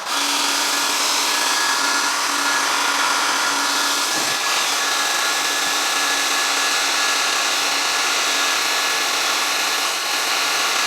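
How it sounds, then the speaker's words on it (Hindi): Hair dryer blowing hot air to shrink wrap around a lithium-ion 18650 cell, a continuous loud whooshing hiss with a steady motor whine, running nonstop with no voices. "घर में इस तरह का कोई हेयर ड्रायर पड़ा होगा तो इसका गर्म हवा जो है उससे भी ये अच्छी तरह से बंद हो जाता है"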